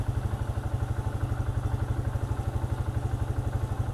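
A delivery rider's motorcycle, low on fuel and running on reserve, idles nearby with a steady, rapid low thumping beat throughout and no voices.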